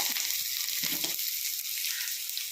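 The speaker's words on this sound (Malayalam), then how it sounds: "തേങ്ങ എല്ലാം കൂടെ ഒന്ന് വഴറ്റിയെടുക്കുക ആദ്യം" Onion, green chili and grated coconut sautéing in a pan, a steady close hissing sizzle with a few soft stirring scrapes early on.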